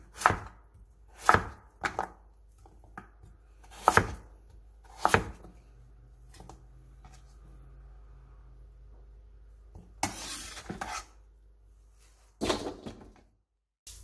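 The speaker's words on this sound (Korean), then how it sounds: "무를 세로로 한번 자르고 다시 1cm 정도 두께로 썰어주세요." Korean radish is cut on a board with a knife for kimchi: sharp, separate chops, spaced irregularly and clear in a quiet kitchen, with a longer scraping burst partway through.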